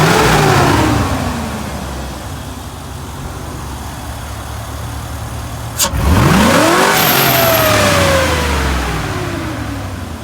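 Chevy Silverado pickup engine fitted with a K&N air intake revving up outdoors, a loud steady idle rising into a sharp throttle blip with the engine climbing and falling in pitch, no talk.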